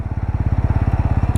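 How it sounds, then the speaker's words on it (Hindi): A TVS Apache RTR 200 4V or Bajaj Pulsar NS200 motorcycle braking from about 60 km/h using rear and front brakes together, with a rapid, pulsing engine thump close by, loud and steady without talk. "एक बार दोबारा इसको 60 के ऊपर भगाते हैं और रियर के संग संग बाद फ्रंट ब्रेक का इस्तेमाल करेंगे।"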